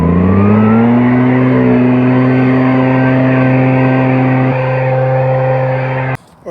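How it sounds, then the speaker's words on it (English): A lawn edger's small engine runs steadily and loudly nearby while trimming an overgrown sidewalk edge, holding a constant droning pitch before briefly cutting out near the end. "I'm gonna go over it one more time with the edger"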